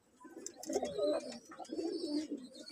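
Freshly paired Nildumba Kamagar pigeons coo in a loft, close, rolling throaty calls in two overlapping bursts with light chirps above.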